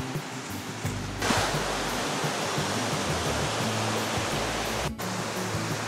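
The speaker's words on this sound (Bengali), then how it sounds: "এটা একটা মিনি ঝর্ণা বললে ভুল হবে না" A small waterfall pours over slippery rocks at Sitakunda, a steady close rush of water that fills the whole clip with a brief dip near the end and no voices.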